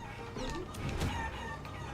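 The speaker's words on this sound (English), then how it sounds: "I like punching those chickens." Chickens clucking and crowing in the Guacamelee video game, a busy cluster of fowl calls at steady moderate loudness, alone without talk.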